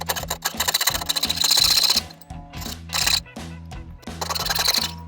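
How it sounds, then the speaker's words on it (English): A power tool cuts a notch out of a brass piece for a woodworking project. The machine buzzes and chatters loudly in bursts, with short pauses between passes, and no one speaks. "we're going to shape our brass. And take and just make a little notch mark. And cut that area out."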